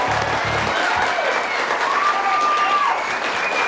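Brief, sparse clapping from a game show contestant on a lottery TV show, a short half-hearted patter of applause over faint studio ambience.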